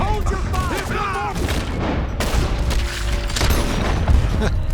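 Gunfire in the Western video game Red Dead Redemption 2, a rapid volley of loud shots and booms layered under excited voices and game sound.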